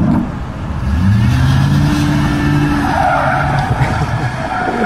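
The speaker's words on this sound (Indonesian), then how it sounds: "Mobil polisi dilewatin langsung ngesot ya." A car skids loudly just after passing a police car on a road, a close tire squeal and engine roar holding for several seconds before trailing into rougher road noise.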